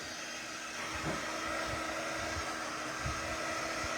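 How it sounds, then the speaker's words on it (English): A warm-air craft heat tool blows steadily to dry work on a tote bag, a constant close whooshing hiss with a faint motor hum and small handling knocks. "this is my heat tool, and it's not really hot, but it is warm and it blows warm air"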